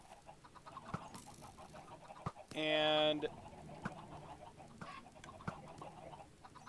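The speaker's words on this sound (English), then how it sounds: "I just have chickens everywhere now from the chicken farm." Chickens from a chicken farm cluck in a video game, with one loud, sharp squawk standing out for under a second amid faint background noise and someone speaking.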